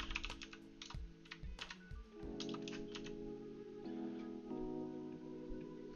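Quick bursts of keystrokes on a computer keyboard while naming a new Java project in IntelliJ, close and fairly quiet over a faint steady hum, with no voice.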